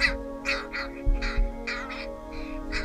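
Young crows caw repeatedly while being hand fed at a wildlife care centre, giving loud, nasal, close-up calls in a rough rhythm over a steady background hum.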